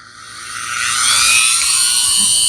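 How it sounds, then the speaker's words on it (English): A Dremel fitted with a metal cutoff wheel whines at high pitch as it cuts into a truck bumper, a close, steady shrill grinding that swells in loudness and holds. "So I've got a metal cutoff wheel here on my Dremel."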